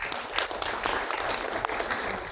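An audience at a university leaders' meeting in Surabaya claps steadily, a dense patter of many hands at moderate distance, fairly even without a clear peak.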